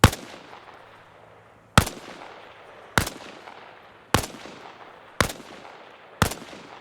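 Single rifle shots in ARMA, fired while leaning out from behind a wall, six loud cracks spaced about a second apart, each followed by a short echoing decay over quiet ambience.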